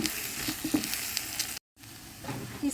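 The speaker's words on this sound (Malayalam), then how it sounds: "മഞ്ഞൾപ്പൊടി നമുക്കിതെല്ലാം ഒന്ന് ഇളക്കി കൊടുക്കാം" Turmeric, chilli powder and spices sizzle and fry in oil for a chickpea curry as a spoon stirs through them, a steady close crackle with soft scraping, briefly cut out then resuming.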